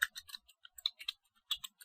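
Computer keyboard keys tapped in a quick, uneven burst of light clicks, close and quiet with short pauses between strokes.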